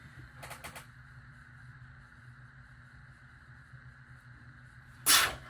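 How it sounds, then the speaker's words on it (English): A single sharp sneeze bursts out near the end, loud and close, following a quieter burst early on against a low steady hum. "Sorry I sneezed."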